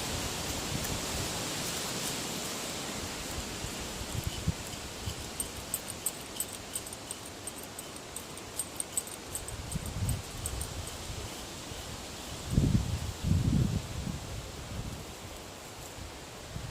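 Steady outdoor wind noise blowing through trees while cedar bark is harvested, a continuous broadband rush with occasional soft rustles and thumps.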